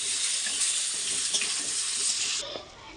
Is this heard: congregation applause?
no